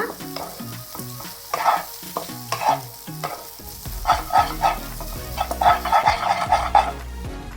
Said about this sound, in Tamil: எல்லா கொள்ளு பொடியும் போட்டு நம்ம இந்த மாதிரி நல்லா கிளறி விட்டுடலாம்